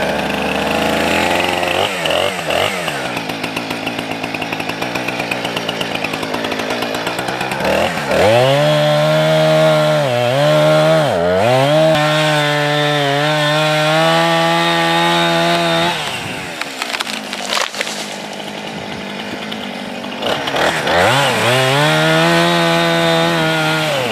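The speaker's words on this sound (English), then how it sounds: "let's get on sawing this limb off over here." A chainsaw roars steadily, its engine pitch rising and dipping as it cuts through a tree limb, loud and close with a brief lull before revving again.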